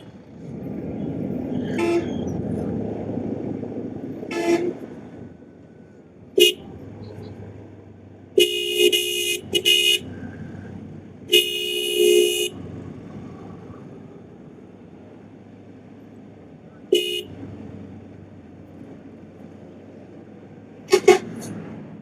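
Heavy traffic jam on a city street in Khulna, with a low engine rumble underneath and repeated car horns blaring, some short toots and some longer held blasts, spread across the scene.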